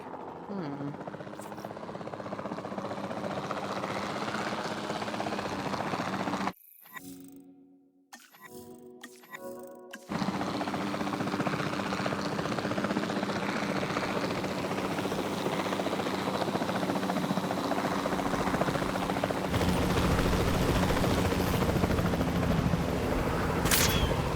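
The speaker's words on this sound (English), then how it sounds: "Then the sensible thing is to take a capture team helicopter." Capture team helicopter in the video game Jurassic World Evolution 2, a continuous loud rotor and engine drone that briefly cuts out to near silence midway before resuming steadily.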